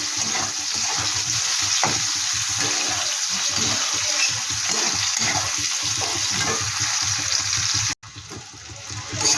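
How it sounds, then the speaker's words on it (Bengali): Potato and onion fry in a pan with a loud, continuous sizzle and some stirring scrapes, close up and unbroken until a brief cut near the end. "আর আলুটা পেঁয়াজটা একটু ভাজা ভাজা করে নেবো"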